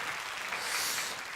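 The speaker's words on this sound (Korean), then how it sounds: "뜨거운 박수로 여러분 격려해 주시기" A congregation applauds at a Sunday church service, a faint, even wash of many hands clapping with no voices over it.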